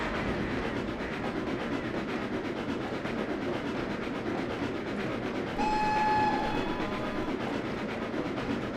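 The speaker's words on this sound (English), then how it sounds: "I also cannot hold the whistle for an extended period of time" Steady rumbling train noise throughout, with a single clear steam locomotive whistle blowing for about a second and a half partway through, in the train simulator Trainz Plus on a Cornish branch line.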